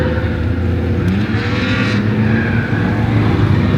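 BMW E36 drift car on a track, a loud engine roaring under load with tires squealing as it slides, the pitch rising and falling and the sound close and continuous.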